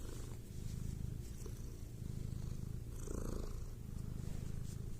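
Domestic cat purring close to the microphone in a steady, rumbling rhythm with slight pauses between breaths, loud and alone.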